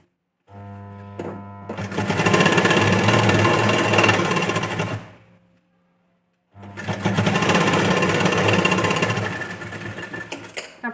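A sewing machine stitches a blouse strip in two long bursts of rapid mechanical whirring, loud and close, separated by a brief pause where the motor stops.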